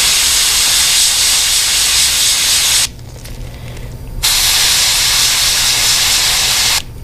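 An airbrush or spray gun hisses loudly and steadily while painting a Missouri Golden Shiner fishing lure, with one brief pause partway through before the hiss resumes, close and alone.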